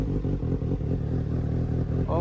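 A four-cylinder motorcycle with an aftermarket exhaust idles close by, its steady, slightly lumpy engine note running with small rhythmic pulses.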